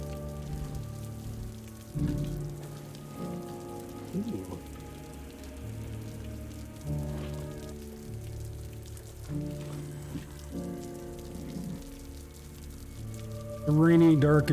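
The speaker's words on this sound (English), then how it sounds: "The rain is beating down relentlessly" Heavy rain beating down relentlessly on a dark city street in Boston, a constant hiss of drops layered over low, sustained musical tones that shift every couple of seconds.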